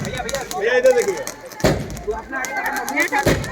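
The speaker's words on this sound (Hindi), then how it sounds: "ये फिर से आतिशबाजी लड़ियाँ छूटते हुए बहुत ही सुंदर" At a Maithili wedding, rapid crackling bursts of firecracker strings pop repeatedly, with a couple of heavier bangs, mixed with people talking nearby.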